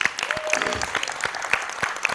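Audience applause at a talent show broadcast, a steady patter of clapping hands filling the room for about two seconds at moderate level.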